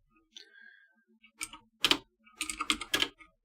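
Typing a short command on a computer keyboard, a few scattered key taps and then a quick cluster of sharp clicks, close and fairly loud, with no talking.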